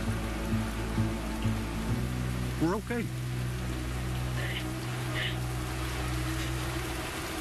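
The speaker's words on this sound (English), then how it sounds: "Rain's letting up." Steady rain patters down over a low background hum, and a voice briefly speaks partway through.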